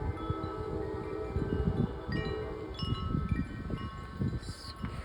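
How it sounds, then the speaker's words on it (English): Strong, gusty wind during an autumn windstorm, roaring steadily outdoors with rising and falling surges and buffeting against the microphone, no voices. "It's pretty windy"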